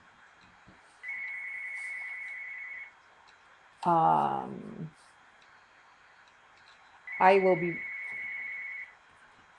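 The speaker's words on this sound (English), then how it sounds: "my phone's ringing" A telephone rings in repeated long, steady electronic tones with pauses between them, and a nearby voice speaks briefly in between the rings.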